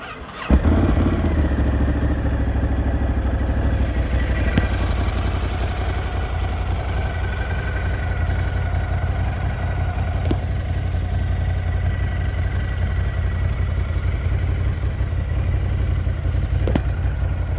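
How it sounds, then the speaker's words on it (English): A Ducati Scrambler 1100 Sport with 886 miles and its exhaust baffles fitted idles steadily, its low, rumbling engine holding an even, continuous throb at close range with no talk over it. "So when I turn the bike on in a second, keep in mind the baffles are in."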